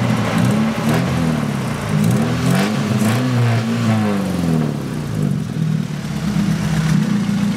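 A Nissan 240SX idles rough and cold with no air filter, its loud aftermarket exhaust giving a deep, uneven rumble with a few throttle blips close by, running continuously with no one talking.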